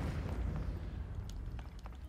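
Cannon fire in the video game Zelda: Tears of the Kingdom, heard as dull, distant booms under a steady low rumble of background game sound.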